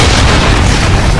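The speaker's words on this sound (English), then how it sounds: "Enemy cruise missile incoming." A cruise missile blast in the Call of Duty: Modern Warfare video game: a loud, sustained booming roar with deep rumble that fills the whole moment without any break.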